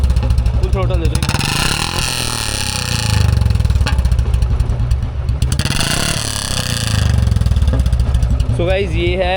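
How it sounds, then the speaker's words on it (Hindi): A Royal Enfield Bullet BS3 motorcycle is started and revved twice, its loud thumping single-cylinder exhaust rising and falling close by between idle stretches. "ये है BS3 की आवाज़, ठीक है, देखो आप एक बार सुन दो। ये BS3 की है हमारी, जो मेरी बुलेट है।"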